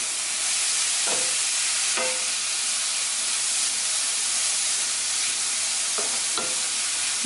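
Ingredients for a plant-based eggplant lasagna sizzle in a hot pan as they are stirred, a steady hiss with a few sharp scraping strokes of the utensil at intervals.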